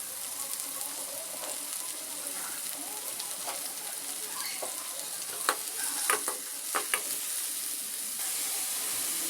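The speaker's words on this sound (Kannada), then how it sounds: "ಎಣ್ಣೆ ಬಿಸಿಯಾದ ನಂತರ ಚಿಕ್ಕದಾಗಿ ಕಟ್ ಮಾಡಿದಂಥ ಹಸಿಮೆಣಸಿನಕಾಯಿ ಹಾಕಿ ಫ್ರೈ ಮಾಡಿಕೊಳ್ಳಿ" Finely chopped green chillies and onion frying in hot oil in a pan, a steady bright sizzle running throughout with a few sharp scraping clicks of stirring near the middle.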